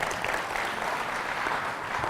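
Sustained applause from a conference audience at a travel industry session, dense and steady clapping filling the room at moderate loudness without a break.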